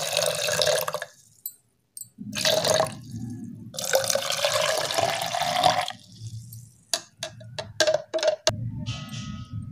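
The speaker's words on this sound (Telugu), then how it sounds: "తర్వాత చల్లని వాటర్ పోసుకొని కొద్దిగా మిక్స్ చేసుకోవాలి." Cold water poured and stirred into a Rooh Afza sharbat drink, several close splashing pours separated by pauses, then short clinks and drips of mixing, no speech.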